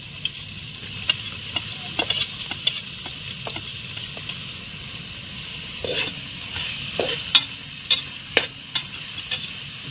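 Onions and chillies being stirred in an oil-filled pan over a camp stove at a night campsite while cooking chicken biryani, giving a soft steady sizzle with sharp utensil scrapes and clicks scattered throughout.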